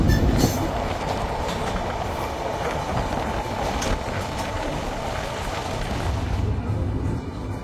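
The Ruposhi Bangla Express between Dhaka and Benapole, heard as a loud, continuous rush of wheels and carriages with clickety-clack and brief wheel squeal, close by with nobody speaking.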